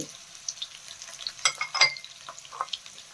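Onion, garlic, ginger and green chillies frying in a pan make sparse, sharp crackles and pops over a quiet hiss, with clusters of louder spatters near the middle.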